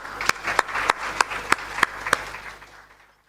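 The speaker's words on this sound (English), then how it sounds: "Round of applause for that." A small audience at a regional awards ceremony claps in a slow, regular rhythm of about eight sharp claps that fade out toward the end.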